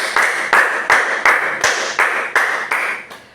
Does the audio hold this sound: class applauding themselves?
yes